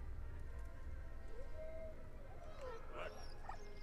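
A dog in the Valiant Hearts video game gives short whimpers and yips over soft game background sound, fairly faint and intermittent.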